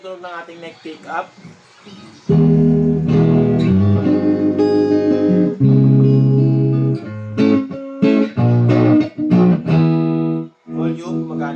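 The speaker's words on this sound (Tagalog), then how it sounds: "Ito po yung tunog ng ating neck pick up." An electric guitar played through its neck pickup rings out in sustained, warm chords and notes, with a person talking briefly before and after the playing.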